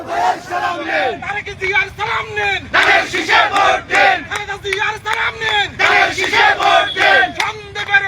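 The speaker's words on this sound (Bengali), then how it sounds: "নেতা কর্মীরা একটি স্লোগান দিচ্ছেন" Party workers at a street rally in Sandwip chant political slogans in loud, rhythmic call-and-response bursts, a dense crowd of shouting voices repeating phrase after phrase close by.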